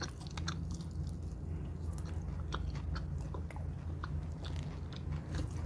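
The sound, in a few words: chewing coconut suvarotti while tasting it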